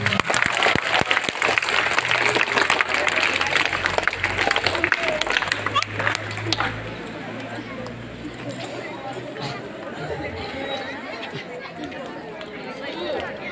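Audience applause at an annual sports meet award ceremony, dense clapping from a crowd for about six seconds that fades into murmuring chatter and background hubbub.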